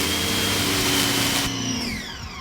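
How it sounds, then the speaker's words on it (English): A pressure washer running through a long hose line, its steady broadband machine drone with a constant tonal whine, shifting abruptly partway as the pitch drops and the motor sound changes, close and loud with no talk. "the pressure washer can't keep enough pressure in the line for that to stay off, so it just pulsates now"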